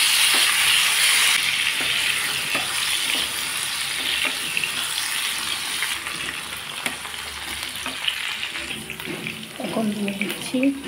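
Potatoes fry in a pan with a steady, loud, hissing sizzle that continues throughout. A faint voice is briefly audible near the end.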